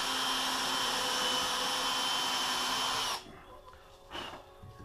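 A steady, loud power-drill whine boring into bamboo runs for about three seconds, then cuts off abruptly, leaving quiet with a brief rustle.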